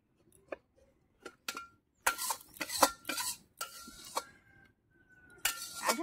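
A cooked curry pot is lifted off a village clay stove, giving scattered clanks and scraping metal clinks of pot and utensils, moderately close with quiet gaps between bursts.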